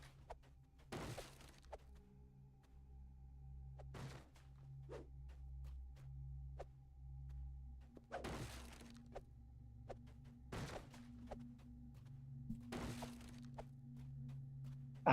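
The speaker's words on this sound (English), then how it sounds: "smashing those crates." Wooden crates smashed in the fantasy game Dungeons and Dragons Online: several sharp, bright breaking crashes spaced a few seconds apart over a low steady background drone and ambience.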